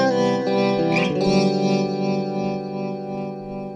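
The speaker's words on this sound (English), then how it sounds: "this baffle starts to spin, giving me a really cool effect" Sustained guitar notes swirl and pulse through a spinning rotary speaker, the tone wavering and shimmering as it fades slowly.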